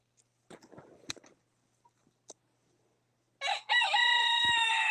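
A rooster crows loudly and close by near the end, a long harmonic call, after some brief clucks and rustling from a backyard flock of chickens.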